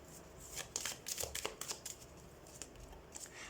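Tarot cards are drawn from a deck and handled for a pick-a-card reading, giving soft, quiet shuffling and crinkling rustles in short irregular bursts with no talking.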